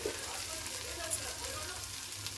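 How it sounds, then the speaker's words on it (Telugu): Goat brain frying on a low flame with garam masala, a faint, even crackle and light sizzle holding steady throughout. "కొద్దిగా యాడ్ చేసి స్లో అట్లనే లాస్ట్ ఫ్లేమ్లో సిమ్లో పెట్టి ఫ్రై చేయాలి."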